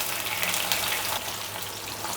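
Paneer pieces frying in a pan, a steady bright sizzle with soft bubbling that holds level throughout, close and moderately loud with no one talking.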